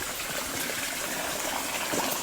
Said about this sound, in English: Huge amount of water coming through the pond.